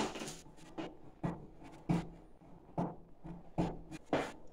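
A protective covering being peeled off bent metal turbine covers, coming away in repeated scratchy, ripping strokes about every half second, close and fairly soft.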